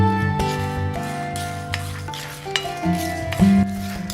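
Curry leaves stirred and roasted in a pan with lentils for Andhra-style paruppu podi, a close scraping, rustling stir under a steady sizzle and low hum.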